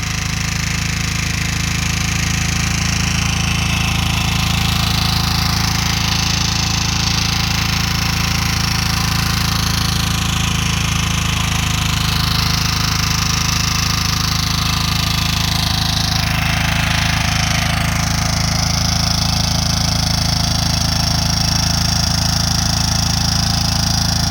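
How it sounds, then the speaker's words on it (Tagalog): A diesel or gas hand tractor engine runs steadily and loud throughout, close by with a continuous hammering drone and no talk, on a farm while preparing ground for planting eggplant seedlings. "Gamit lang ang hand tractor"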